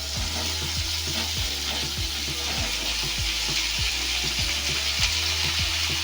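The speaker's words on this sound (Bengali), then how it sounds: "ঝিঙে আর আলুটাকে ফোড়নের সাথে নাড়াচাড়া করে মিশিয়ে নিতে হবে।" Ridge gourd and potato sizzle steadily in hot oil with spices, while a utensil scrapes and stirs the pan in a regular rhythm of knocks and scrapes, close and continuous.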